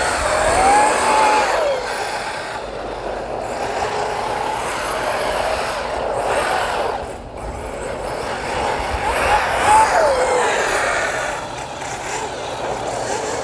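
A Redcat Machete 6s RC truck on Arrma Fireteam tires runs with a loud, sustained high-pitched electric motor whine that rises and falls as it speeds past twice, heard fairly near outdoors.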